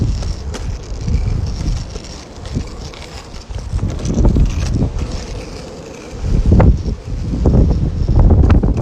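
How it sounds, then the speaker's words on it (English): Strong wind buffets the microphone while longboarding outdoors, a loud rumbling roar that rises and falls in gusts, with faint wheel rolling noise beneath and no speech. "Now the wind is pushing me."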